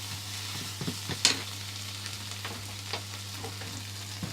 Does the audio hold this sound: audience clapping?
no